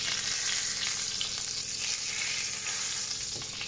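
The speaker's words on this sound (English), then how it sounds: "You can hear that fat rendering out of that, that lovely corn-fed fat." Corn-fed pheasant fat rendering in a hot pan gives a steady, dense sizzle and crackle, close and continuous, with no talking over it.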